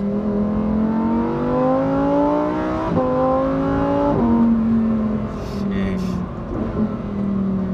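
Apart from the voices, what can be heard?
Lamborghini Huracan STO V10 engine revving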